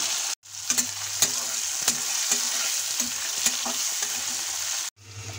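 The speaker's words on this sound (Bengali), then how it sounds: "আদাটা হালকা ভেজে নিয়ে আমি এখন এর মধ্যে দিয়ে দিচ্ছি টমেটো কুচি" Chopped tomatoes and ginger fry in a pan for a cauliflower aloo gobhi, giving a loud, steady sizzle up close with regular spoon clicks and scrapes as they are stirred, and no talking.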